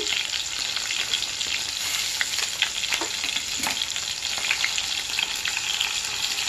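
Onions fry in a pan for a home-cooked pulao, with a steady, close sizzle and scattered crackles throughout.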